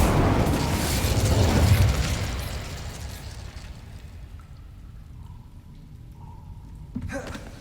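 A fire spell is cast in Hogwarts Legacy inside a mine: a loud whooshing burst of flame that swells for about two seconds, then fades into a quieter rumble, with a sharp crackle near the end.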